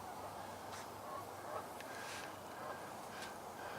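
Geese honk a few times in brief scattered calls across a river with open water, faint and distant over a steady background hiss.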